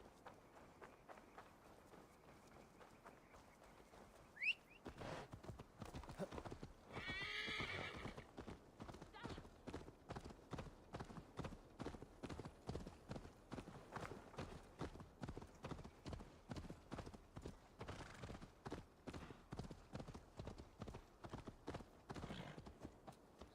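A horse in Assassin's Creed Valhalla trots along with steady, rhythmic clip-clopping hooves and a whinny early on, under occasional talk.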